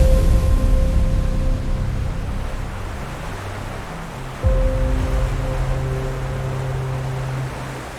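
Ocean waves as a steady broadband wash of surf under a low, sustained music tone, with one swell lifting slightly halfway through.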